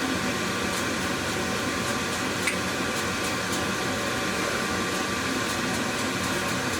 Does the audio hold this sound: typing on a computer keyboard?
no